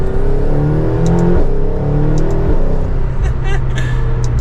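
A McLaren GT accelerates hard with quick gear shifts, its engine note climbing in steady loud sweeps and dropping briefly at each shift, close and continuous.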